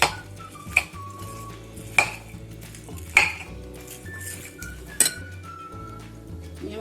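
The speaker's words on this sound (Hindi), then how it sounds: "अच्छी तरह पहले मिक्स कर लेना है।" Papri chana chaat being mixed in a bowl, with repeated clinks of a spoon against the dish at roughly one-second intervals over soft scraping and stirring, close and fairly quiet.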